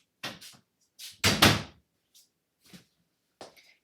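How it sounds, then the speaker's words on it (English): A household door being shut, a few distinct thuds and knocks with one louder slam in the middle, close by in a quiet room with no talking. "Just going to shut the door."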